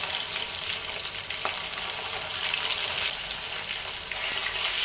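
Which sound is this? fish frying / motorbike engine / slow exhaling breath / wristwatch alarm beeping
fish frying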